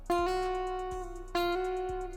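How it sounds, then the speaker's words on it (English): A sustained guitar note rings, then a second note sounds sharply partway through as a hammer-on, both fading slowly. "I'm just going to hammer it on at the end."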